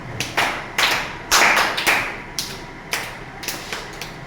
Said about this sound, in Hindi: good morning Tali start